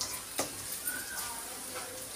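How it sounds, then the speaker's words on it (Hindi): Spices such as coriander, asafoetida, turmeric and red chilli powder roasting in mustard oil, a bright steady sizzle close by with a couple of brief stirring scrapes over a short stretch. "धनिया, हींग, हल्दी, लाल मिर्ची पाउडर, सब डाल देंगे, इसमें डालेंगे और डाल के थोड़ा सा भून लेंगे।"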